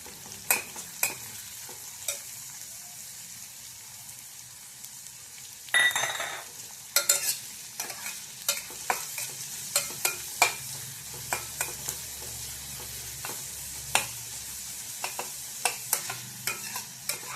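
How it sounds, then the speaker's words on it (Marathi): Chopped onion, curry leaves and spices being sautéed in a pan make a quiet, continuous fry, broken by frequent sharp clicks and scrapes of a spoon stirring against the metal, close by. "कांदा मी 2 मिनिटं परतून घेतलेला आहे."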